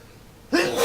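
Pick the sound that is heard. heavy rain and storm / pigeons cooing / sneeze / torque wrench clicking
sneeze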